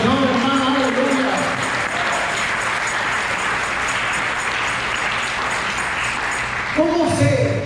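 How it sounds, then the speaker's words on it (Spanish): A church congregation at a Sexta IAFCJ service in Los Mochis claps for the Lord in a sustained, even roar of hands, with a voice and musical tones breaking in near the end. "Puedes aplaudirle al Señor, hermano"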